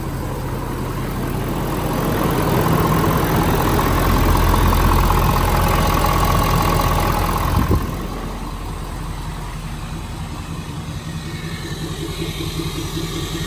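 A 2022 Ford F-250 diesel pickup starts and idles after a tune and delete install, with a loud steady rumble that swells over the first seconds, drops sharply at about eight seconds, then settles into a lower, even idle.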